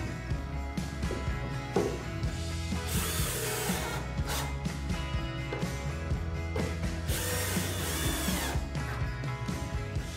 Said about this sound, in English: it's easier to start the screws on the bench top and then drill them in place.